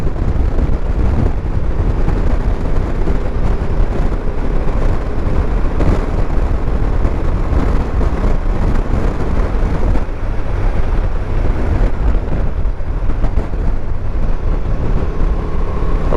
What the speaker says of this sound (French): De nouveau, on retrouve ce vent.